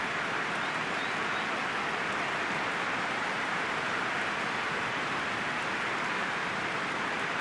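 Steady, dense rain in a stadium in a football video game hisses evenly throughout, a constant wash of noise with no pauses or voices.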